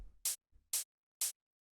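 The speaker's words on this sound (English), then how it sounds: "It's just a kind of nice, hard-hitting hi-hat sample going through some drum bus to fatten it up" A hard-hitting hi-hat sample fattened through a drum bus ticks three times in an even rhythm, each hit a short, crisp burst, with a faint low thump between the first strokes.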